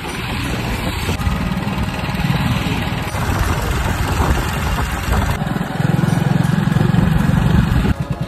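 A motorcycle engine idles close by with a steady low chugging putter that rises in loudness partway through, then briefly sputters at the end.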